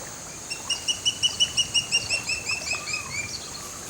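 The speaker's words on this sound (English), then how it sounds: "Birds trigger the alarm." Birds call in alarm near a Nile crocodile's nest in the sand, a quick run of about a dozen sharp, evenly spaced chirps followed by softer scattered calls, moderately loud over faint outdoor background.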